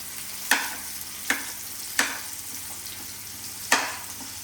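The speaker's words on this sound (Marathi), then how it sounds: "तर आता कांदा लालसर ओलसर भाजून घ्यायचा." Onion frying in a pan for pasta, with a steady soft sizzle broken by four sharp spatula scrapes or knocks at uneven intervals, close and clear with no talking.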